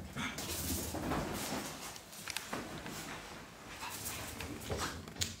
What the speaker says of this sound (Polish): A w miseczkach leżą szczeniaki.